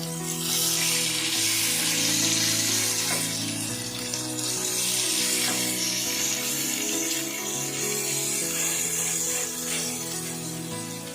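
Burger patties fry in a covered pan, giving a steady, even sizzle that carries on without a break and sits close and fairly loud.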